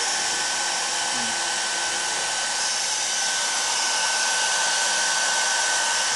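A forced air blower drying a ceramic wall gives off a loud, steady, unbroken hiss of rushing air that stays constant throughout.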